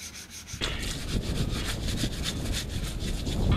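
A stiff wheel brush scrubs a car wheel on a Ford Fusion, giving a steady, close rasping and rubbing sound in rhythmic back-and-forth strokes with no talk.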